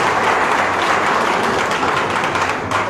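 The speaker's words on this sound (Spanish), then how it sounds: "El aplauso para el doctor Enrique Valderrama, que se escuche, por favor." An audience at an academic ceremony in Pativilca applauds a visiting doctor with brisk, continuous clapping that stays close and loud for the whole few seconds, with no voices over it.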